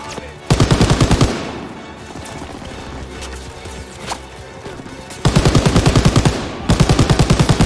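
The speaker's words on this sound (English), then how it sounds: "Mesin gun ini coy, dilawan." Machine gun firing in Call of Duty WWII, loud rapid-fire bursts at the start and end with a quieter gap between them.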